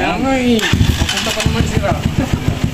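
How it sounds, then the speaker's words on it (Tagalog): A motorcycle engine at a garage cranks and fires up for a test ride, settling into a loud, close, rapid idle thump with a voice speaking briefly at the start. "Ito, test ride na ni Sir Ian yung motor niya."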